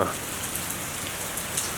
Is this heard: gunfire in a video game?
no